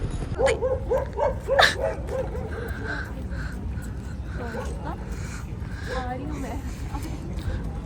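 Small dog barking and yipping in a quick burst of several sharp, close barks with whimpery tones, then fading into a noisy background where people talk and a few fainter yips follow.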